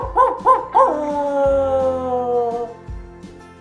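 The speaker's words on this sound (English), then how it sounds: "why do wolves always howl?" Wolves howling at an ecology center farm: a few short rising yips lead into long, sustained, wavering howls that overlap and fade, loud and close with no speech.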